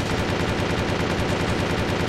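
Rapid, continuous machine gun fire from the video game Windforge, a dense rhythmic burst of shots, loud and close throughout.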